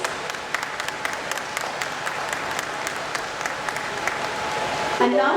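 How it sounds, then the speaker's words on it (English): Audience applause for a speaker at an architecture and interior design event, a dense, steady wash of clapping lasting several seconds with sharper individual claps standing out. "Can we have a huge round of applause for her,"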